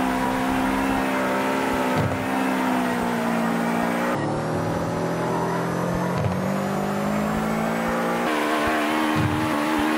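A race car engine screams at high RPM in a driving game, a sustained loud whine holding steady with brief dips at gear changes before climbing again.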